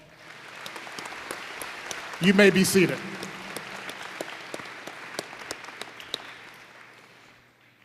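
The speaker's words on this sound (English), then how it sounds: "Please give them a round of applause." Sustained applause from a large crowd at a university convocation at UW-Stevens Point fills the room, with a voice briefly speaking over the clapping.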